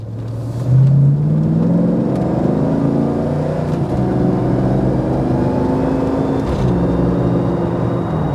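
A 1995 Range Rover engine accelerating from inside the cabin, a loud, steady rising drone as it climbs through gears, with a brief dip at a shift and no talking.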